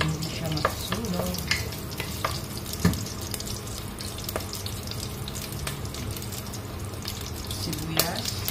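Garlic frying in a pan, a steady close sizzle with occasional sharp clicks and scrapes as it is stirred to keep it from burning, cooked for a noodle dish.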